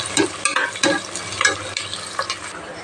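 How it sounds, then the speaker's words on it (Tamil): Deep frying in hot oil while food is stirred, a steady close sizzle with repeated bursts of crackle and scraping stir strokes, no voices. "நல்லா டீப் ஃப்ரை ஆகணும், கருகாமல் டீப் ஃப்ரை ஆனால் தான் நல்ல டேஸ்ட் கிடைக்கும்"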